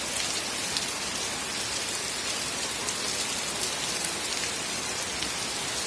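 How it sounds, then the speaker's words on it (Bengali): Steady rain falls at night and patters evenly on surfaces close by. The dense, constant wash of drops holds at an even level with no voices. "বৃষ্টি পড়ছে,"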